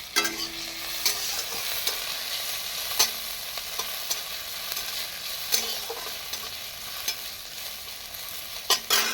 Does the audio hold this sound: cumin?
yes